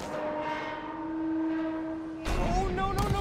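A train on the tracks in the Spider-Man: Miles Morales video game rumbles with a sustained horn-like tone that swells and fades, followed by a louder, harsher burst of rolling noise, with no talk over it.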